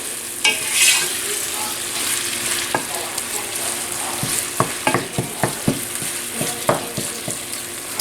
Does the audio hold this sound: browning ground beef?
yes